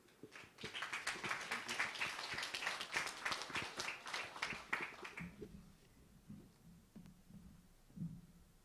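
An audience applauding panelists at a conference session, a few seconds of brisk clapping that stops abruptly, followed by quiet room tone and a faint voice.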